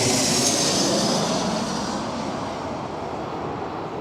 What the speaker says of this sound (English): doing the wake turbulence. And the bucket reversers.